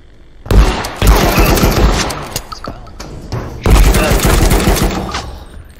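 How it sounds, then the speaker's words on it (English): Video game gunfire erupts in loud, rapid bursts, a first volley, then another heavy stretch of shots after a brief lull, close and punchy. "Got so many shots into him."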